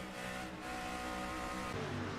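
A race car engine drones steadily on board during a HORL Showdown Series race at Indianapolis Motor Speedway, a dense, continuous roar with a strong harmonic whine, held at near-constant throttle and close up throughout.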